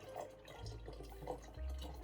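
D76 photographic developer mixed with water poured into a container in an apartment bathroom darkroom, a steady close trickle and dripping fill with soft splashy pulses and a low burbling rise.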